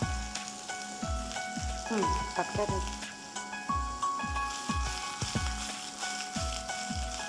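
Cucumber pieces and tempering spices frying in hot oil, a steady crackling sizzle broken by repeated low thumps of stirring, with a voice speaking briefly over it.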